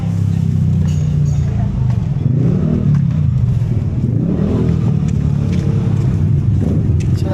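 A motorcycle engine runs steadily close by, its low rumble holding throughout with slight revving, and faint background voices are mixed in.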